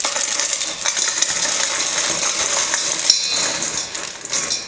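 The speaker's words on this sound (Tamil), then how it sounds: "நம்ம ரெடி பண்ணியிருக்கிற முறுக்கை வந்து இப்போ உடச்சி சேர்த்துக்கலாம்" Crisp fried murukku is snapped and crumbled into a wide mixing bowl, giving a steady run of crackling breaks and small clattering pieces with a few sharper snaps, close and fairly loud.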